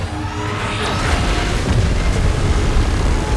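Giant monster unleashing an energy beam in a Godzilla vs Kong battle scene, a loud sustained roaring blast with rumbling bass and rushing hiss lasting several seconds.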